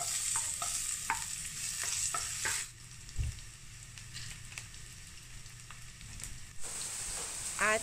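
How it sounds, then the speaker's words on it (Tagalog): Garlic and onion sauté in hot oil in a pan, a loud close sizzle punctuated by spatula clicks and scrapes, easing for a few seconds before surging again. "naglagay na ako ng mantika para makapag-isa na tayo ng bawang at sibuyas"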